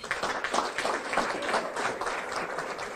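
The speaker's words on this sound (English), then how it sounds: "How about a big round of applause for them?" Audience at a chamber of commerce awards banquet applauding a wine sponsor, a steady crowd clapping that fills the room evenly throughout, with no voices standing out.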